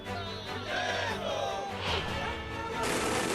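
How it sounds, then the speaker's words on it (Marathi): Maratha community members and BJP workers celebrate loudly in Nashik after the Mumbai agitation ends, with a dense, close crowd cheering and shouting continuously, swelling in bursts of whoops throughout. "मुंबईतील मराठा आंदोलन मागे घेतल्यानंतर नाशिकमध्ये जोरदार जल्लोष करण्यात आला"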